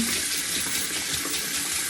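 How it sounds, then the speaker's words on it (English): Lukewarm water running steadily from a sink tap, a continuous close hiss and splash with no voices. "I'm going to run my water to make sure I get that lukewarm"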